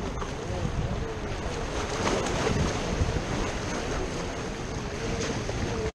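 Strong wind buffets the microphone outdoors during land-based lure fishing on the South East Queensland coast, a loud continuous rumbling roar with a broad hiss that holds steady throughout before cutting off abruptly.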